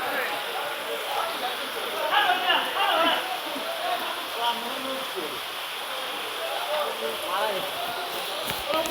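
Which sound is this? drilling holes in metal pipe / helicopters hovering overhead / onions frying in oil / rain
rain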